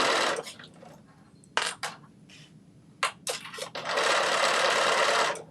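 A sewing machine runs a back stitch while sewing sequined fabric, giving several short bursts of rapid stitching, then a longer steady run at the end, close and fairly loud with no talking.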